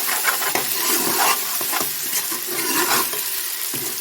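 Ginger garlic paste sizzles loudly in a pan with browned onions for an aloo gosht, crackling and hissing close up, with scraping stirring strokes breaking through and no voices.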